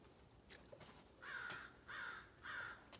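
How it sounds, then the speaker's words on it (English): Crows caw outdoors on a cool day, three harsh evenly spaced calls at moderate distance over faint background noise. "Birds are having a field day today."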